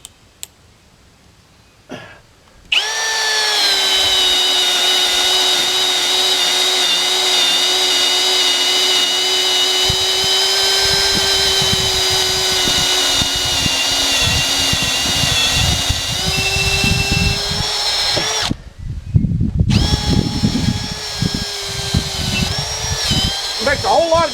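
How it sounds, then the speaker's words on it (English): At a sawmill, a hammer drill whines loudly and continuously for about sixteen seconds with a rattling, hammering undertone, then stops briefly and starts again. "I don't like hammer drill."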